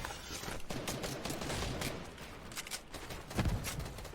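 Explosive weapon fire in a shooter game: a fairly quiet, busy stretch of repeated shots and blasts, with a heavier thump near the end, no voices.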